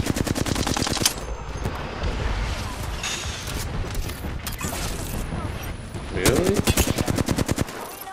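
Gunfire in a shooter video game: loud, close, rapid automatic bursts open the moment and return near the end, separated by a dense stretch of battle noise.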